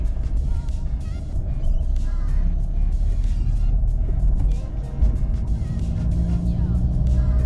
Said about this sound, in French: On reprend l'accélération.